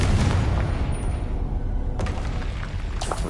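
A Confringo fire spell bursts in Hogwarts Legacy combat, a heavy booming blast with rumbling low end, then a sharp crack and trailing crackle, loud and up close.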